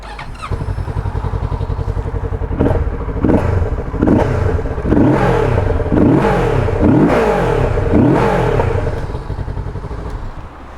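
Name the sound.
Kawasaki Z650RS motorcycle engine starting and revving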